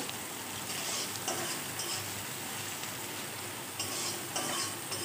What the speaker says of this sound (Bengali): তেলটা গরম হওয়ার পর দিয়ে দিয়েছি কেটে রাখা পেঁয়াজ কুচি। পেঁয়াজটা এখন ভেজে নিব